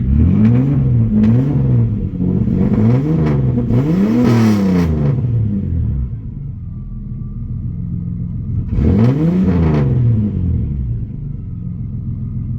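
Nissan Maxima engine running in a garage after a fuel pump replacement, loud and close, revving up and down in repeated surges over a steady idle, then settling to idle before another rev burst; no talk.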